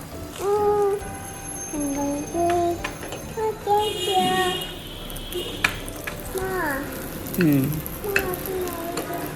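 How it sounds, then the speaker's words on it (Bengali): An egg fries in a pan with a soft, steady sizzle and occasional scraping and clinking of a utensil, while a voice speaks over it and bright ringing tones sound in the background. "এখন আমি ডিমটাকে হালকা হয়েছে ভাজা, এখন আমি এটাকে নামিয়ে ফেলবো"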